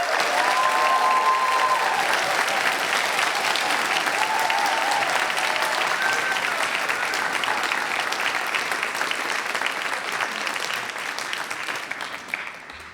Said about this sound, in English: give an enormous cheer and round of applause for our graduates